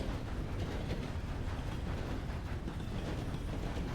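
A train rolling along its tracks gives off a steady, dense rumble with a faint rhythmic clatter, continuous and fairly quiet, with no voices.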